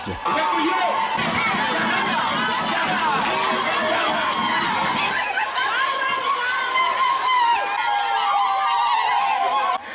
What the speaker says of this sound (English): Vendors chanted praises for the NRM government repeatedly, shouting no change in jubilation.